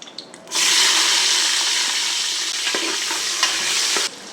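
Onions frying in hot oil and being stirred in a pan for mutton biryani, a loud continuous sizzle starting sharply after a brief pause, with scraping stir sounds, close up and alone.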